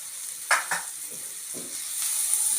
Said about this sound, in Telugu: ఉల్లిపాయ వేగిపోయింది.